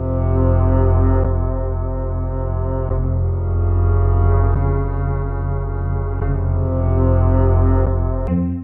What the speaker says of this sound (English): Next we have the romantic cello